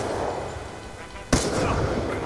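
A single sharp gunshot burst from a first-person shooter game, a loud sudden crack about halfway through with lingering echo, over a steady bed of game ambience and faint background noise.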